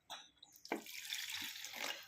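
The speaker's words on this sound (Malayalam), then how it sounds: "അതിൽ കുറച്ച് വെള്ളം ഒഴിച്ച് കൊടുക്കുക" Water poured into a pan while making fish curry with chilli, ginger and garlic, a short faint splashing pour lasting under two seconds, no talk.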